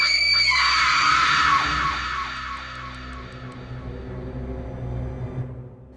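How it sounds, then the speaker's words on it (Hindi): A long, shrill scream rings out loudly at first, then slowly fades over a low rumbling background. "सलोनी एकदम से चेतन के चेहरे के पास आकर जोर से चीख पड़ी।"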